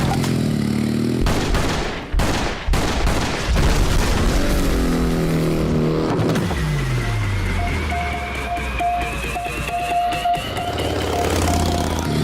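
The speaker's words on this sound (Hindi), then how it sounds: "इस पे 5 राउंड चलाना, और इसके लिए तो गोलियों की आवाज ही काफी है।" A burst of gunfire, five rounds, rings out in a South Indian action thriller, loud sharp cracks clustered early amid a dense booming film soundtrack, followed by rumbling vehicle-like noise and a rising tone.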